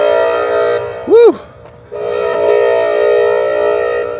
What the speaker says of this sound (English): I was thinking maybe it'd be a tornado siren or something